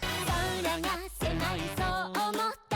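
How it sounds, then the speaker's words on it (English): Six cartoon monkeys in Super Monkey Ball Banana Rumble sing together in bright, harmonized chirping bursts, a short cheerful chorus of several voices rising and falling over under three seconds. "That's the sound of 6 monkeys serenading you at once."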